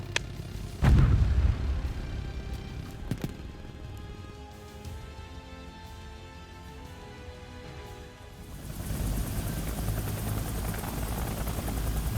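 Helicopter in War Thunder, a steady rotor and engine roar that runs throughout, with a loud thump near the start and a brighter, louder wash of engine noise in the last few seconds.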